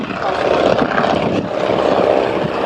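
A Morane-Saulnier Storch, a short take-off and landing propeller plane of German Fieseler design, drones steadily as it climbs away, its engine and propeller a loud continuous rumble that stays fairly close throughout.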